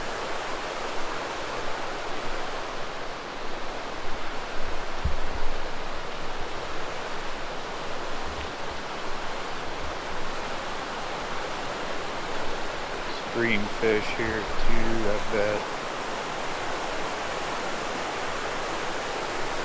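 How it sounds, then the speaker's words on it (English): A fast snowmelt river in the Colorado Rockies rushes loudly and steadily throughout, with a brief voice speaking over it near the end. "Wow, that water is moving. That is some fast water. All that good snow melt."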